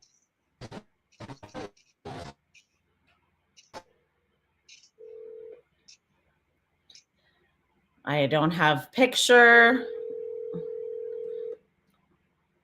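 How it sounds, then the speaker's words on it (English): A regular landline telephone gets dialed, with scattered clicks and short DTMF keypad beeps followed by a burst of rapid tones and a long steady dial tone; a voice speaks briefly in between. "I'm trying to call on the phone, regular phone."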